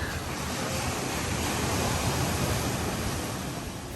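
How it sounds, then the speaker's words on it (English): Ocean surf rolling right outside an oceanside rental on Maui, a dense, steady wash of breaking waves heard up close with no talking, the broad roar swelling slightly in the middle before easing. "open the door and then the ocean's right in front of you"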